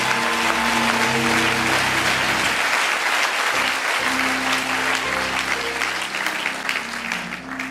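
A church congregation applauding during a sermon on praying with faith, a loud, sustained wash of clapping up close with a voice briefly heard over it, fading slightly toward the end.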